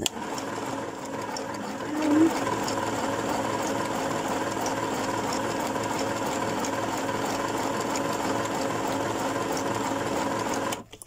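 A sewing machine stitching tag shapes onto fabric book pages runs in one continuous steady mechanical whir with a rapid needle rhythm, close and fairly loud for most of eleven seconds before stopping at the end.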